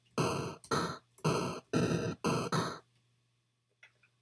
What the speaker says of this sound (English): The next sound I'm going to show you is a type of 8-bit kick drum,